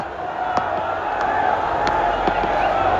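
A football stadium crowd roars steadily in a broad, continuous wash of cheering, with a few sharper shouts and claps standing out from the din.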